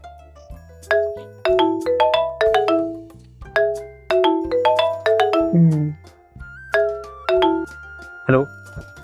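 A bright electronic ringtone chimes in a repeating melodic pattern of quick descending notes as a call is placed, loud and close with short gaps between phrases.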